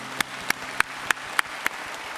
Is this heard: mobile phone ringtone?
no